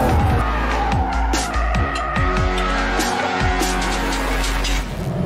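A 2021 BMW 4 Series oversteers around a track corner, tires squealing and skidding in a long loud screech over a roaring, shifting engine, with no voices.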